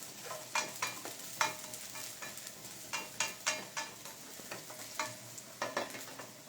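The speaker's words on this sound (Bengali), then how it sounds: "গার্লিকটা একটু ফ্রাই করে নেবো হালকা, তাহলে কি হবে, গার্লিক থেকে খুব সুন্দর একটা অ্যারোমা বেরোবে।" Garlic lightly frying in a pan for hot spicy cheese noodles brings a soft, continuous sizzle broken by a regular run of scraping stirring strokes, quiet and close, with no voices.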